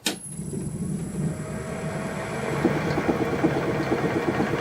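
A wood lathe turns a burl blank slowly at about 450 RPM, giving a steady low mechanical hum and rumble with faint rattling vibration that swells slightly partway through, heard close and alone.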